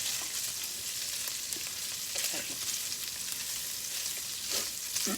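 Ham gravy sizzles in bacon grease in a frying pan, giving a steady, close crackling hiss that carries on without talk.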